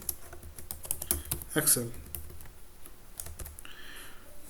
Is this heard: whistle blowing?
no